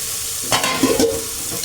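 Masala spices for aloo gobi fry in a pan, giving a soft, steady sizzle with a brief stir and scrape near the middle.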